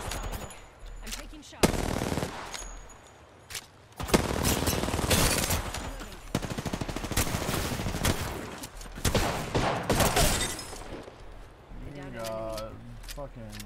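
Video game gunfire in an Apex Legends-style match, with repeated bursts of rapid automatic shots and single cracks close up, loud and interleaved with a person talking over them.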